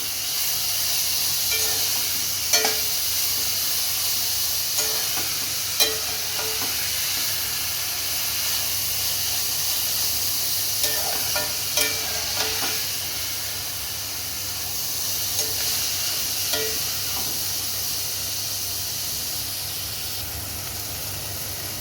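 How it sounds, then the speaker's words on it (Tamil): Onions and tomatoes fry in a pan, giving a steady soft hiss and sizzle for about twenty seconds. A few light clinks and stirring scrapes come through at intervals. Nobody speaks. "ரெண்டு வெங்காயம் ரெண்டு தக்காளி இதை சேர்த்துடலாம் இது எல்லாத்தையும் நல்லா ஃப்ரை பண்ணிக்கலாம்"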